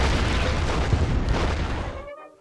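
A building explosion effect for a stop-motion WWII Battle for Caen animation, a loud sustained booming roar that holds for about two seconds and then cuts off abruptly.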